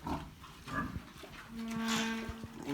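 Pregnant sows on a farm, about a week before farrowing, grunt and snort at close range over steady barnyard background noise.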